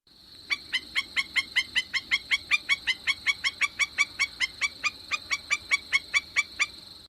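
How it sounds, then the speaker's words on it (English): Stilt yapping in a rapid, unbroken run of around thirty short, harsh notes over a soft background hiss, loud and continuous for several seconds. "And the stilt does some kind of yappy noises."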